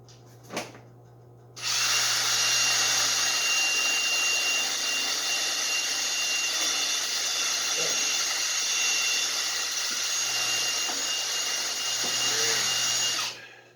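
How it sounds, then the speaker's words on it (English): A power drill whines loudly and steadily for about twelve seconds after a brief tap, then cuts off; close by, with no talking. "let's just drill out this rivet"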